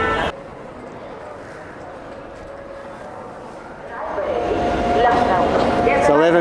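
At Varanasi station in India, the Howrah Amritsar Mail pulls in: after a quiet stretch of station murmur, a loud rising rumble of the arriving train builds and continues, with squeals and crowd noise mixed in.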